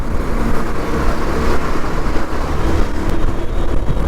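A road vehicle's engine drones steadily as it accelerates with the throttle held open, a continuous loud hum and rumble with road noise and no voices.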